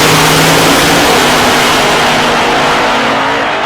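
Drag racing cars at a Wild Bunch Wars event launch down the strip with a deafening, sustained engine roar that stays loud and dense, then tapers slightly as the cars pull away.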